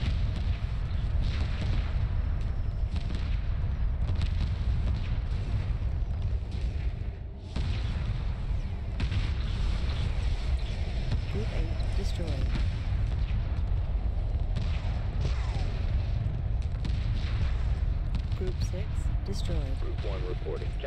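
Heavy weapons fire rolls continuously through a space battle in Homeworld, with deep rumbling booms and explosions. Radio chatter runs over the top throughout.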